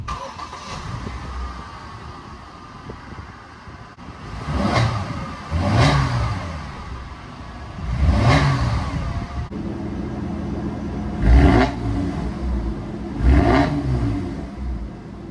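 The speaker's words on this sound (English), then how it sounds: "Here's a quick clip of how the car sounds now." A Chevrolet Colorado turbo engine with an X-pipe and catalytic converters removed revs repeatedly, several loud swelling blips rising over a steady idle, with no talking.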